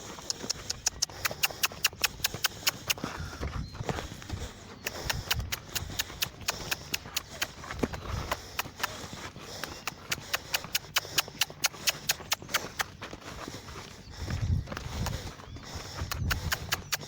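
Horse hooves stepping sideways on the ground during groundwork training, faint clip-clop steps in irregular clusters with soft background noise throughout.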